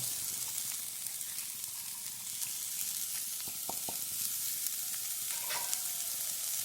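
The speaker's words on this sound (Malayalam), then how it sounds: "ഇനി നമുക്കിതിലേക്ക് സവാള സവാള ഞാൻ ഈ സോപ്പറിലിട്ടിട്ട് ഇട്ടിട്ട് ചെയ്താട്ടോ" Onion sizzles steadily in hot oil while cooking for a cauliflower masala thoran, a continuous close frying hiss with a few light clinks of the spoon.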